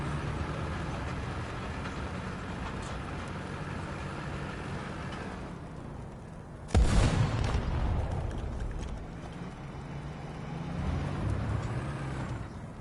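A big tank cannon in the video game War Thunder fires once with a sharp, heavy boom midway, cutting through a constant engine rumble that continues afterward.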